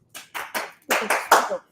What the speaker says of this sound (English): So we shall be clapping like this.